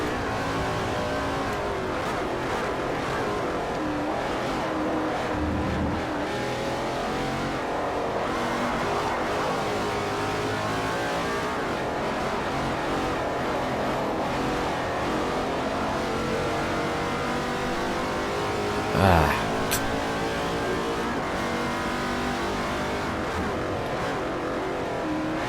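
GT2-class race cars in Forza Motorsport 4 during a professional multi-class event, their engines droning and shifting pitch continuously at a moderate level. A brief sharp sweep stands out near the end.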